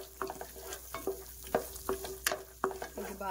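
Vegetables frying in hot ghee in a pan, with a spoon stirring in irregular scraping strokes over a steady sizzle, close up and with no talking.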